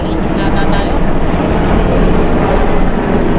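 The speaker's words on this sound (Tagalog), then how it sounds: "tatatlo yung mga helicopter oh" Several helicopters passing overhead outdoors during a fishing outing, a loud, steady broadband rotor and engine roar that fills the whole stretch without easing off.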